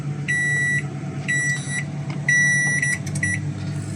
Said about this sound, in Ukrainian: Давайте мікрохвильовку вмикаємо.